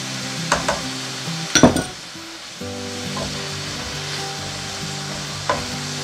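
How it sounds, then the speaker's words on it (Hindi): Chicken pieces fry in a pan with a soft, steady sizzle, broken by a few sharp clinks and scrapes of stirring, close and fairly quiet. "चिकन अच्छी तरीके से फ्राई हो चुका है।"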